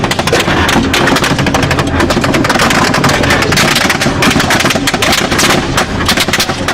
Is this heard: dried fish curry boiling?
no